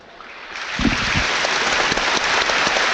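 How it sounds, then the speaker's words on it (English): A stadium crowd applauds during a minute's applause at a Brentford versus Plymouth Argyle FA Cup third round football match. Broad, sustained clapping builds quickly from a quieter start and stays loud and continuous to the end. "Having a minute's applause for a Brentford fan who passed away recently."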